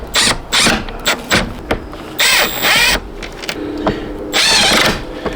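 A power tool in short, loud bursts, driving bolts into the rear end of a Corvette in a garage, each whirring burst followed by a pause, up close with no talking.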